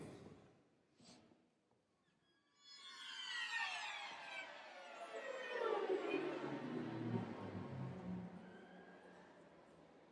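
Orchestral strings slide downward together in a long glissando at a youth symphony concert, a smeared descending swell that thickens and lingers, moderately quiet with no voices.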